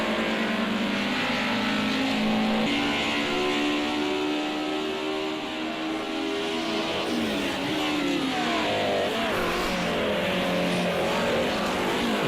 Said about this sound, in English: Then hard on the brakes, turn it in for Lucien Bianchi